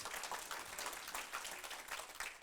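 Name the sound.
congregation applause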